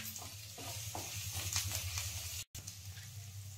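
Chana dal, urad dal and grated ginger roast in a pan for lemon rice, a soft continuous sizzle with light scraping stirs close by and a low hum underneath.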